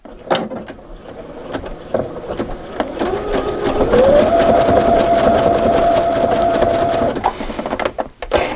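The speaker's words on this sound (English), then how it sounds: "I'm just going to stitch across those two little areas to join this little piece" Sewing machine zigzag stitching across denim and lace fabric, a loud continuous mechanical whir with a rising motor tone that holds steady, then stops near the end with a few handling clicks.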